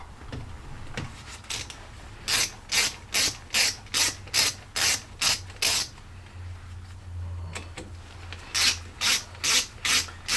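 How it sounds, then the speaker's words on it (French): A ratcheting wrench loosens the two small retaining screws on a Peugeot 407 brake disc, giving two runs of quick, regular clicks close up in a quiet garage with a faint low hum between them. "Maintenant on dépose les deux petites vis de fixation qui maintiennent le disque."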